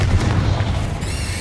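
A Confringo fire spell explodes in the Hogwarts Legacy video game, giving a loud, dense burst with a heavy low rumble that holds steady across the moment.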